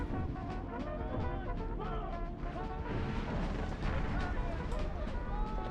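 Booming Civil War cannon blasts and rumbling battle noise in Empire: Total War with the Brothers vs. Brothers mod, with repeated heavy thuds over a constant roar, while a voice talks throughout.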